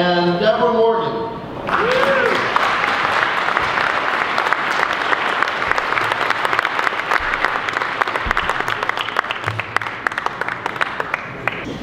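Audience applause for the Wake Robotics team at an evening event; a brief tonal musical sting opens, then loud sustained clapping and crowd noise from a large audience carries through to the end.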